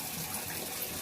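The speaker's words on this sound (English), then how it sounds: "so I'm gonna get my hot water going" Hot water running from a bathroom tap, a steady close rush of flowing water with no talking over it.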